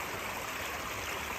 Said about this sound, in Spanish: Este es el agua que viene desde arriba, desde donde empezamos a grabar